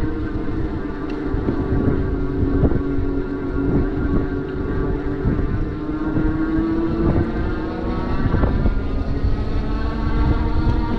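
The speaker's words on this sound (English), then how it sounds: "You can hear the motor got a little kind of lower pitched as it started to climb" A Quietkat Lynx electric bike with a 1000 watt rear hub motor climbing a steep trail, a loud continuous motor whine and rumble with tire and frame noise, steady throughout.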